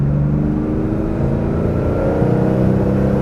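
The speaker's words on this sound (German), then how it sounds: "Der beschleunigt richtig schön durch." A 1971 Porsche 911 2.2 T in original condition accelerates hard, its engine note loud and close, a dense continuous roar climbing in pitch without a break.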